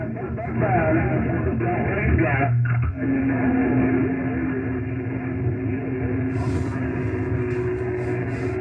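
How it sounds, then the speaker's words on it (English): CB radio receiver hissing and crackling with harsh static and garbled fragments of distant transmissions, steady and fairly loud throughout, with a brief higher crackle near the end. "Let's see if we can hear something on CB."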